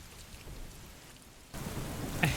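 Heavy rain pours steadily in a quiet background ambience that swells louder partway through, with a dense hiss of drops and a faint low rumble, and no voices.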